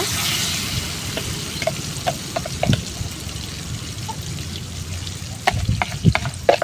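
Onion chutney paste with chili powder and salt is stirred in a hot pan, giving a soft steady sizzle with scattered scraping clicks of the spoon against the pan.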